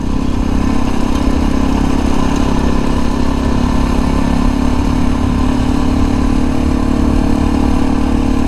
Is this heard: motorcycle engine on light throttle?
yes